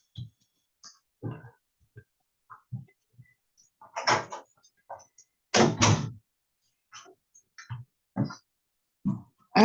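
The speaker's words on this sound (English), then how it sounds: "Let me close this door." A door is pushed shut indoors, giving a couple of solid thuds among scattered quieter knocks and bumps, with short gaps of near silence between them.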